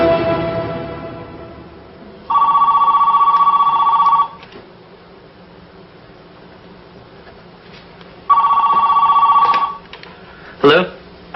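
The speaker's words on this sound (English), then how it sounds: "We begin by phoning with Company A's cell phone." A cell phone call rings during an in-flight test at 1,000 feet, sounding two loud, steady electronic ring bursts of about two seconds each, separated by a quieter gap with background hum.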